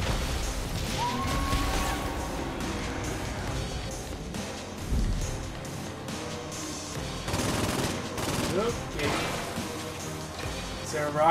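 Rapid M16 gunfire in Saints Row IV, fired blind from cover, rattles in repeated bursts among other combat noise, with a person talking over it throughout.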